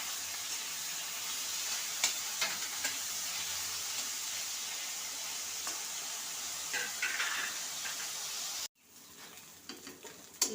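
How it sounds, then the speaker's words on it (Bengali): Soybean chunks fry in mustard oil in a wok with a continuous soft sizzle and hiss, plus occasional stirring scrapes. The sizzle drops off abruptly near the end, leaving only quieter frying. "দেখো কড়াইতে সোয়াবিন দিয়ে দিয়েছি, এবার ভেজে দেবো।"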